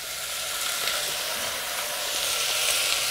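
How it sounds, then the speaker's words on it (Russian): Vegetables sizzle and crackle steadily in a hot pot, a close, even frying hiss with occasional stirring. "Просто обжариваются в одной кастрюле."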